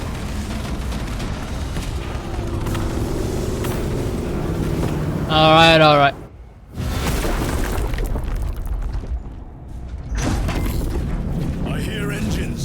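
Spacecraft engines approach in a Warhammer 40K video game, a steady low rumble and roar building under game talk, with a brief rising tonal whine and a short dropout midway before the drone returns.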